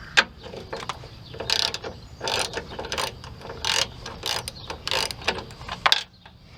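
A wrench ratchets against a bolt on a Dodge Caravan during drive belt work, giving a steady run of close, loud metallic clicks and turns in quick bursts with brief pauses between them.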